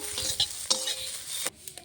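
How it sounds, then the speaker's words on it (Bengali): Malabar spinach seeds fry in a pan while a utensil stirs them, giving close sizzling with sharp scraping clicks, before the sound drops away abruptly near the end. "আমার পুঁই শাকের বিচিটা ভাজা হয়ে গেছে"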